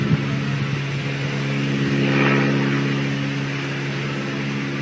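Airplane engine drone heard from inside a cabin, a steady loud hum with sustained low tones and broadband rush that swells slightly midway, no voices.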